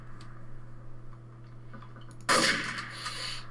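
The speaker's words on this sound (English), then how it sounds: "Oh, sniper shots." Sniper rifle fire in a multiplayer video game: a sudden loud broadband shot bursts in after a steady low hum and quiet ticking, then a sustained noisy crackle and a second softer crack follow.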